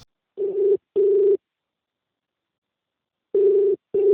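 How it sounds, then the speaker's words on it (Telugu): A steady electronic telephone tone sounds in two short pairs of beeps, separated by a long silence, fairly loud and close. "ఆగే సికందర్ నీకు ఫోన్ చేద్దాం."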